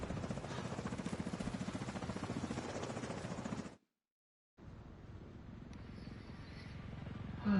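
An extraction helicopter in a video game beats out a steady, rapid rotor chop at moderate volume, briefly cutting to silence before the rotor drone returns.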